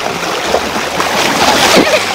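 Water from a splashing pool game churns and sprays in a continuous loud wash, with voices faintly mixed in.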